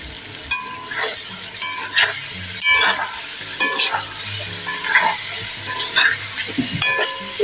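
Lamb with tomato and bell pepper frying in a pan, a steady close sizzle punctuated by regular spatula scrapes and clinks against the pan as it is stirred, fairly loud with no speech.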